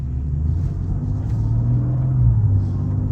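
A 2023 BMW M2 driving in efficiency mode gives off a steady low engine drone and rumble from inside the cabin, loud and unbroken, rising slightly toward the end.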